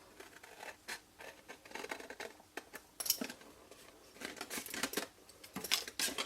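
Scissors snip and trim small pieces of cardstock for a fold-flat paper box, giving a string of quiet, crisp cuts and light paper rustles close by, with no talking.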